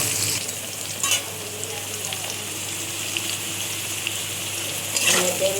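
Spices sautéing in a little oil with potato for a cauliflower and katla fish curry, a dense hiss-like sizzle holding steady throughout, with a couple of louder utensil clanks near the start and end, close up and without talk.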